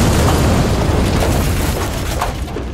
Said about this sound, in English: can we just edit in another explosion to clear our ears?